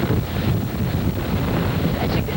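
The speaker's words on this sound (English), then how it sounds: "it's very difficult to even be standing up out in the full force of the wind" Powerful hurricane winds roar on the Alabama coast, a dense, loud, continuous rush buffeting the microphone without a break.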